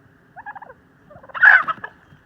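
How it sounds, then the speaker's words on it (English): Turkeys gobble twice, a short rattling call followed by a louder, fuller gobble close by, outdoors on a rural walking route with no voices over it. "Turkey. Turkeys."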